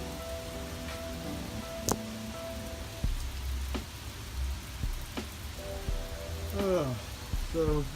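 Heavy rain pours down in a constant dense hiss, with scattered sharper drops and faint tonal sounds in the background.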